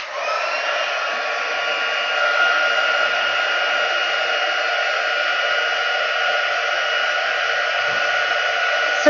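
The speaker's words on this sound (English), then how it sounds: "So now we're going to emboss this." A heat embossing tool blows a steady, loud, even whoosh of hot air over a stamped holiday card, running unbroken for several seconds with no talk.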